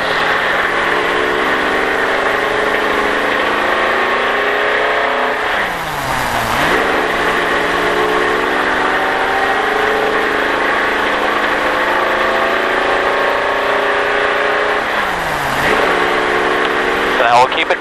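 A NASCAR race car engine droning loudly at steady high revs on a Las Vegas racetrack, with two sweeping pitch drops as the driver shifts gears.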